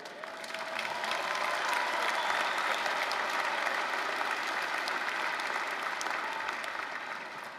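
A commencement audience at a spring degree ceremony claps in a sustained, even wash of applause that swells and then holds steady at a moderate distance.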